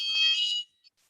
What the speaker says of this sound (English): there's a usual fire alarm test at 10:30, so maybe just give it another 5 seconds